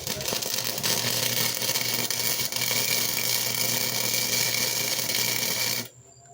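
A Harbor Freight flux-core welder running 0.030 flux wire lays a bead, a steady loud crackling hiss that holds continuously for about six seconds and then stops abruptly.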